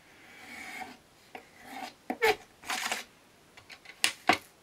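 Scissors or a blade cut through paper for a scrapbooking Christmas envelope, a series of quiet close snips and rasping strokes with short pauses between them and no talking.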